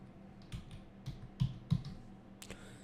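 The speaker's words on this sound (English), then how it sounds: "I'm gonna do a click and then type the word bold" Typing on a computer keyboard, with a handful of separate key clicks and a couple of sharper presses, close but quiet over a low room hum, no voices.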